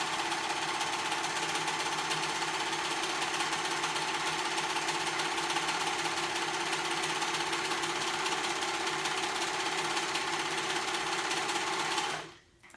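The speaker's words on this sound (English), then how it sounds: "try out different stretch stitches on your sewing machine and see which one works best" A sewing machine runs stretch stitches through ribbed knit fabric, a steady fast whirring hum that holds unbroken for about twelve seconds, close and loud, then stops abruptly.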